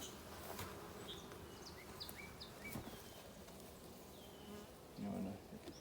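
Honey bees at a starter hive being gently smoked, a steady low insect buzz sustained throughout with a slightly louder swell near the end and faint birdsong in the background.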